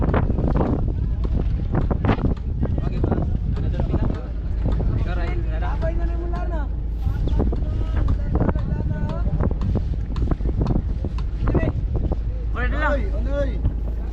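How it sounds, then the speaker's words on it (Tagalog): Strong wind roaring at sea aboard a fishing boat, a steady loud rush buffeting the microphone throughout while people talk over it. "Naramdam na namin ang ano, ang hangin. Malakas na."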